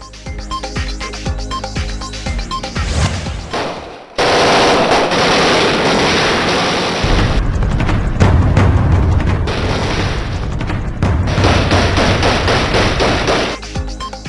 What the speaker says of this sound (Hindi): लियारी में सातवें रोज भी गोलियों की बूछाड़ और रॉकेट फायर